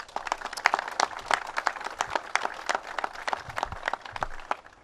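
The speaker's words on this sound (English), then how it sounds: "Let's give them a round of applause." Enthusiastic applause from a crowd at a government flood-resiliency funding announcement, steady dense clapping that carries on for several seconds without speech.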